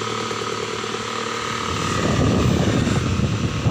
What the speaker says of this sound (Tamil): இது வந்து பார்த்திங்கன்னா 12 volt டிசி ஃபேனு